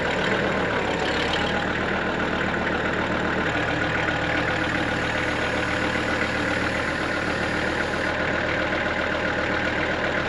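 An old Kubota tractor engine runs steadily on a sawmilling job, a constant close mechanical drone with an even, throbbing rumble and no voices.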